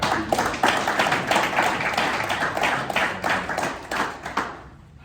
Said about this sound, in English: So let's clap it up for him.